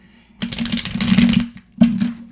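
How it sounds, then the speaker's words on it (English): Tarot cards being shuffled by hand give two close, papery bursts of riffling, a longer one followed after a short pause by a briefer one, with no talk. "So now I'm going to shuffle up the cards"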